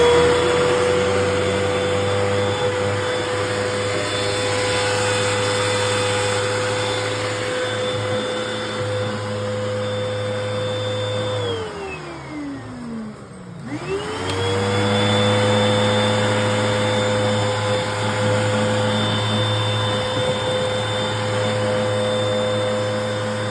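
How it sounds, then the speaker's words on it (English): A Hoover Wind Tunnel Pet upright vacuum cleaner with a no-suction fault runs loudly and steadily, its motor whine dropping sharply as it briefly powers down near the middle, then surging back up to full speed for the rest. "I plug it in and I fire it up initially and see if the brush roller turns, see if it has suction"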